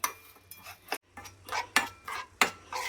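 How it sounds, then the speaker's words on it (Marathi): Sugar being stirred in a pan while it caramelizes for custard, with a utensil scraping and clinking against the pan in irregular close strokes, fairly quiet, with no talking. "साखरेला सतत हलवत राहा, म्हणजे ती खाली लागणार नाही किंवा तिचे क्रिस्टल्स तयार होणार नाही."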